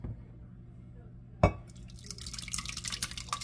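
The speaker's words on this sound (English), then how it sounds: "I'm going to pour it into this container, which is, I believe, an 8x8." Baked macaroni and cheese mixture being poured into an 8x8 baking container, opening with a sharp clink against the dish followed by soft, wet splattering and sloshing as the thick liquid fills it.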